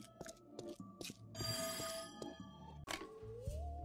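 Telephone ringing in the video game There Is No Game, a few bell-like trills mixed in among clattering game effects, thumps and a rising tone, fairly faint and busy.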